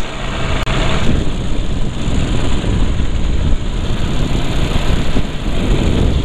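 A paramotor trike engine drones continuously in flight, held at a little throttle above a low idle, loud and close with a steady, unbroken buzz and rush of air, with no one talking.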